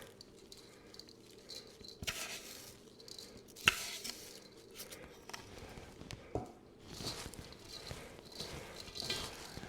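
Shredded cabbage being mixed with salt by hand for sauerkraut, soft crunchy rustling and squishing in irregular bursts, close up and fairly quiet, with a few sharper knocks.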